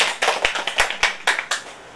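Wedding guests at a Vietnamese ceremony clap, a handful of distinct, close hand claps spaced irregularly over two seconds, crisp and fairly loud with no voices.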